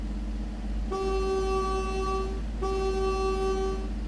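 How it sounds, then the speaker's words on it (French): A loud, steady truck horn in the video game Roadcraft sounds twice, each blast lasting well over a second with a short gap between, over a constant low engine drone. "Je sais pas si vous entendez, mais le klaxon. Mais le klaxon est pénible."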